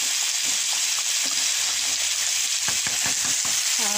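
Potatoes frying in a pan for biryani, a steady hissing sizzle with occasional utensil clinks and stirring scrapes up close, no voices.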